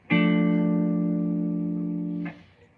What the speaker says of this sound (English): It's like a minor chord.